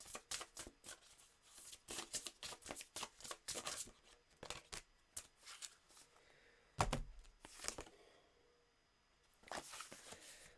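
Tarot cards are shuffled and drawn in quick, crisp riffling bursts up close, broken by short pauses, with a heavier thump midway and a final flurry of shuffling, no speech over it.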